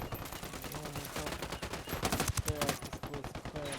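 Gunfire crackles in a video game shootout with rebels defending a house, bursts of sharp shots clustering in the middle and mixed with other game noise and a voice.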